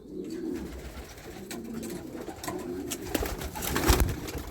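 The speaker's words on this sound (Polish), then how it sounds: "O, to jest ten gołąb, to jest ta z kuperkiem." A pigeon coos nearby in repeated low, throaty phrases, with gusty wind and rustling noise behind it.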